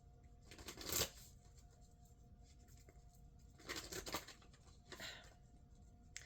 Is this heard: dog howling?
no